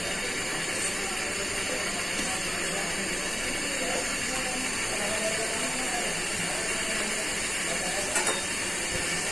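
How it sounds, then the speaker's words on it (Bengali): Chopped onions fry in hot oil in a home kitchen, giving a steady soft sizzle and hiss with no pauses. "এখন পেঁয়াজ কুচিগুলো দিয়ে দিচ্ছি।"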